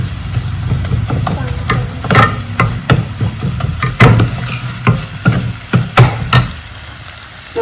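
Cumin and ground spices such as red chilli and turmeric fry in a pan with a crackling sizzle, broken by repeated sharp scrapes and taps of a spoon stirring, close and fairly loud.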